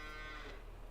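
A cow in Farming Simulator 22 gives a short low moo, heard alone and fairly faint against a steady farm background hum.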